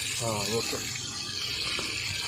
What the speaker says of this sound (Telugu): మా డాడీ నీళ్ళు పడుతున్నాడు